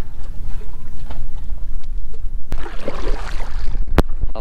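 Wind buffets and rumbles across the microphone while fly fishing for bluegills, with low gusty noise throughout and a sharp knock near the end.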